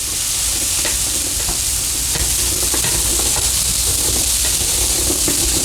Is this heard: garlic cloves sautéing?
yes